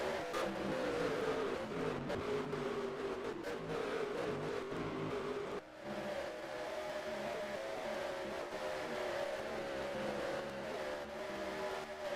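Race truck engines roar continuously in the NR2003 racing game during a truck series event at Knoxville, a steady loud drone with shifting pitch as trucks pass, a brief dip midway, and no commentary heard.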